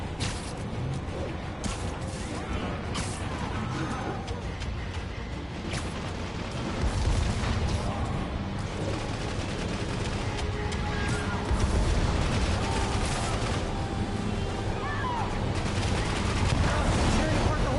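Sustained gunfire in Spider-Man on PS4, dense rapid shots and bursts mixed with booms and mechanical clatter, loud and continuous across the whole stretch with voices at times underneath.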